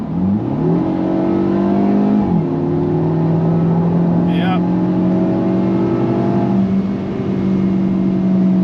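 A Mercedes-Benz SLC 300 Final Edition engine revs up hard from about 2,000 RPM, its pitch climbing through steady harmonic tones under a close, loud drone.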